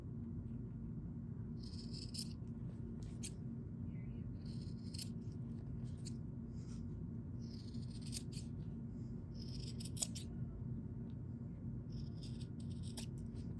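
Scissors snip through fabric corners in short bursts, a series of quick, close, crisp cuts separated by pauses over a low steady hum.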